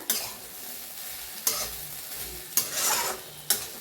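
Cluster beans (gavar) dry-roasting in a pan, a soft steady sizzle broken by several sharp scraping stirs of a spatula against the metal, close up with no talking.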